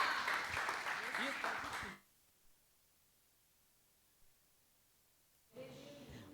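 Church congregation applauding during an evening family service, dense clapping for about two seconds that stops abruptly, followed by near silence before a voice speaks.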